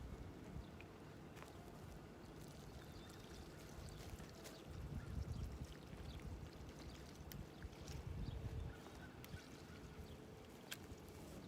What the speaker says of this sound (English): give our plant a good healthy start by providing it some water